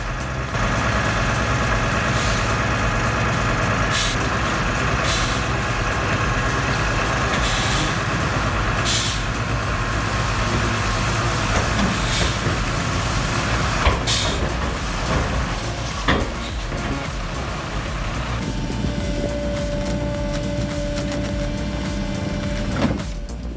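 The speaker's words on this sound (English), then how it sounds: "Cool seeing this Euro tipper work" A Euro tipper dump truck works nearby with a steady diesel engine drone and intermittent hisses of air release, plus a whining hydraulic tone near the end, with no voices.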